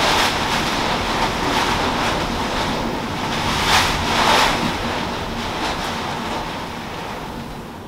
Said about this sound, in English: you could hear the rain just hitting on the side of the house